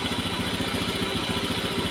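Small Honda Beat Pop scooter engine running at elevated revs, a steady, close, buzzing drone with a fast, even pulsing throughout and no talk.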